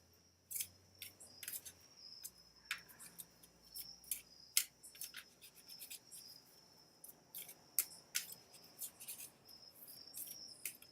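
A deck of cards is shuffled by hand for a random draw at a small Rosh Chodesh gathering: quiet, irregular papery riffles and soft clicks in short bursts, close up, with no talking.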